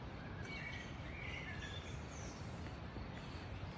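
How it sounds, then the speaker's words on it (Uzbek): Birds sing and chirp in the grounds of a sanatorium, several calls and tweets over a soft steady background, faint and somewhat distant, with no talking. "Qushlarni sayrashini qaranglar."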